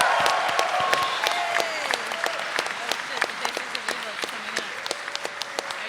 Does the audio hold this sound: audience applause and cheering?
yes